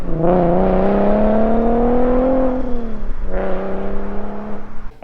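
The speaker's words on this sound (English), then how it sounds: "Anybody who's driven a straight piped VQ like a 370 or G37 knows the exhaust doesn't sound very good" A loud, raspy straight-piped VQ engine exhaust on a Nissan 370Z or Infiniti G37 revs up and holds a droning, horn-like tone, drops briefly, then revs again before fading.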